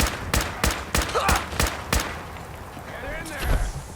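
Enemies open fire in the video game Fallout 4, a rapid run of sharp, loud gunshots in a steady burst, then scattered fainter shots and a shouting voice underneath.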